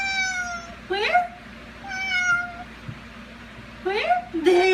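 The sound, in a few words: cat meowing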